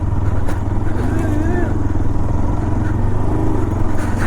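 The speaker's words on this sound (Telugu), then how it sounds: "డైరెక్ట్ కొండ ఎక్కేయాలి మన బైక్ని, డైరెక్ట్ ఇలా ఎక్కిద్దాం" A motorcycle climbs a hill road, its engine a loud, steady close drone with a pulsing low rumble throughout, and a voice talks over it.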